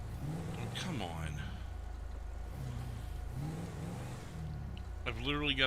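Vehicle engine revving and whirring in GTA 5 while a truck is driven, rising and falling across the clip under a man's speech, with a louder rev near the end.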